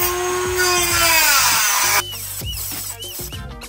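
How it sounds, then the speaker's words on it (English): A power tool cuts out bolts on a budget 72v, 6000-watt electric motorcycle build. A loud, steady high whine runs for about two seconds, then breaks into shorter bursts of cutting with pauses and clanks. "there were some bolts that were getting in the way, so we had to cut those out"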